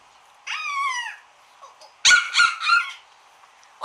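A small child mimics a monkey, starting with a high, sliding squeal, then a brief pause and a run of rapid, shrill ooh-ah cries close to the microphone.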